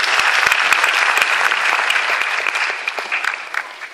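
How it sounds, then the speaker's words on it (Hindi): An audience at an event gives a burst of loud applause for the managing director, with sharp individual claps standing out at first before the clapping gradually thins. "एक बार जोरदार तालियां सर के लिए"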